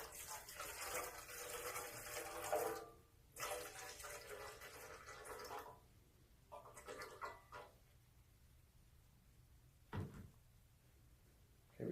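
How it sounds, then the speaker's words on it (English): Water is poured onto a scale to weigh out one pound, a faint, steady splashing stream that runs in several bursts with short breaks between them, fairly distant. "And I'm going to weigh in 1 pound of water."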